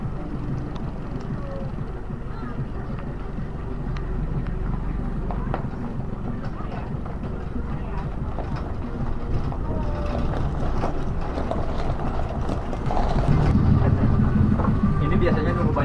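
A motorcycle carries riders along a road near a family campsite at Bukit Waruwangi, its engine a steady low rumble with road noise that grows slightly louder toward the end, loud and close throughout.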